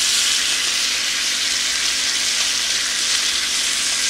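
Mahi-mahi sizzling in brown butter in a hot pan, a steady, dense frying hiss that holds at an even level throughout with no voices.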